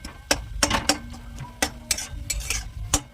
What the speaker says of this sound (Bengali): টমেটোগুলোকে এইভাবে গেলে নেবে বা কেটে দিতে পারো খুন্তি করে